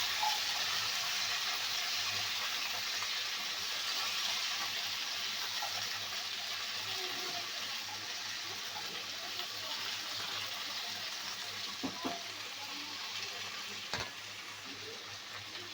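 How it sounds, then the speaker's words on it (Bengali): Mixed vegetables sizzling and frying steadily in a pan while being stirred, a constant bright hiss throughout with a few faint clinks from the utensil, close and fairly loud, no talking. "এবার সবজিগুলো দিয়ে দেব। এবার নেড়ে চেড়ে দেব।"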